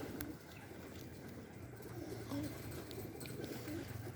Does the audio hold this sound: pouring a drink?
no